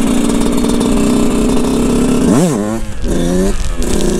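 Barode 125 YZ motorcycle engine running loud and close, holding steady revs before blipping sharply up and down in several quick rises with no talk.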